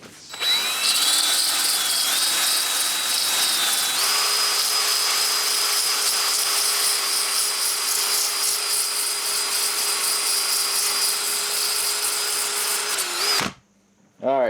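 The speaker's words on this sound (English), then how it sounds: "It goes in the drill, so I'm going to use that to smooth it out a little more." A power drill fitted with an 80 grit sanding pad smooths the metal of an old axe head, whining loudly and steadily for about thirteen seconds before winding down and cutting off.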